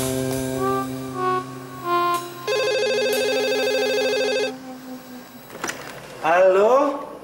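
A telephone rings during a call, giving a steady electronic ring tone of a few seconds that is preceded by talking voices and followed by more speech.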